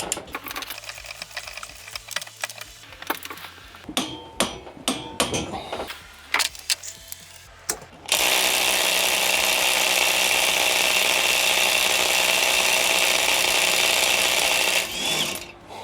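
A Procraft Industrial ID20A impact wrench loosens a nut torqued to 300 Nm. Scattered metallic clicks and clatters come first, then a loud, sustained hammering rattle runs for about seven seconds before cutting off.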